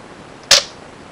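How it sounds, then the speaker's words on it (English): A stock, unmodified Nerf Recon blaster dry-fired once, giving a single sharp plastic snap of the spring plunger with a short rattling tail, close and alone against a quiet room. "I'm going to do a quick dry fire, see how they sound different."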